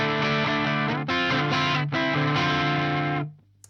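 A Peavey Valveking 100 tube guitar amp plays chords in a low-gain crunch tone, loud and sustained, with a few re-struck chords before the sound fades out, and no talking.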